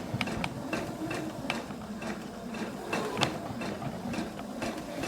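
A sewing machine stitches fabric with a fast, steady mechanical whir and rhythmic needle clatter, close and continuous with periodic sharper ticks.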